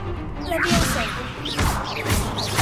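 A Levioso spell cast in Hogwarts Legacy, with swishing, whooshing magical bursts and impacts tangled among shouted voices and game effects.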